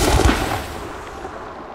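Weapon fire in the space combat game Elite Dangerous: a loud burst of shots at the start, then a fading rumbling tail with no talk over it.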